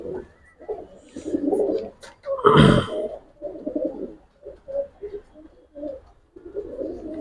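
Giribaz racer and high-flyer pigeons coo close by in repeated low murmuring phrases, broken once by a brief loud rustle or thump.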